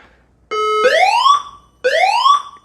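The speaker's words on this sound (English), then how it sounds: "Can you guys hear me while the alarm is on?" A building fire alarm test sounds in two loud, close whooping tones, each a rising electronic sweep with a pause between, heard without talk.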